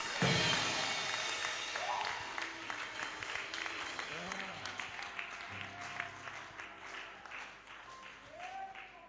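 A church congregation claps at a service, with scattered rhythmic applause beneath a voice speaking and calling out, fairly faint and moderately distant.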